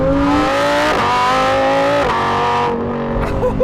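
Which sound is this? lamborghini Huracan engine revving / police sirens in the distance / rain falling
lamborghini Huracan engine revving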